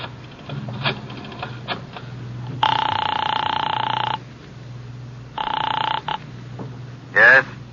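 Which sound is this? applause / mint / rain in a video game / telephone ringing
telephone ringing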